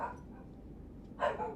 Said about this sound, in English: my dog's excited about that as well